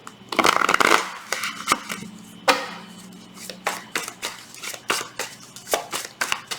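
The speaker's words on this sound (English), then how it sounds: "Last shuffle." A tarot deck is shuffled by hand in a burst of riffling and a run of crisp card slaps and taps, close and fairly loud.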